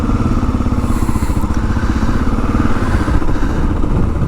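A 2022 Kawasaki KLR 650 dual sport motorcycle rumbles loudly and continuously while being ridden, its single-cylinder engine giving a steady, pulsing throb close by with wind noise on top.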